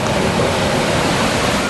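Steady, dense roar of the Iguazu Falls on the Argentine side, heard close up from a walking trail, a loud continuous rushing wash of falling water with no pauses and no voices.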